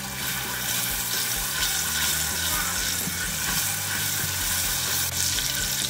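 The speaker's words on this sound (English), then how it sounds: "Once all the crystals are broken down, we're gonna go in with a pat of butter at a time. It's gonna bubble up." Pats of butter added to hot melted sugar for caramel sauce make the mixture bubble and sizzle in the pan. The frothy crackle is steady and close, continuing throughout.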